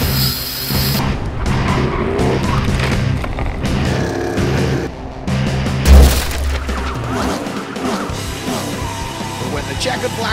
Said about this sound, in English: He's all through the gravel.